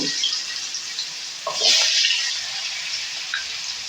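Potatoes frying in hot oil give a steady bright sizzle, and a brief stirring scrape and clatter rises near the middle before the sizzle settles back. No one talks.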